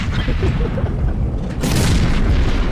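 A loud, rumbling explosion in a World War game bursts in partway through, its deep boom swelling over continuous low battle noise.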